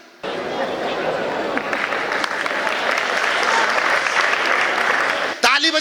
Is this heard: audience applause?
yes